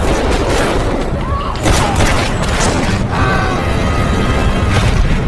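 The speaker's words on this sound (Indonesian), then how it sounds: "sehingga baku tembak pun terjadi" Gunfire from a shootout in an action film, loud bursts and booms over a dense roar of score and effects, with a voice talking over it.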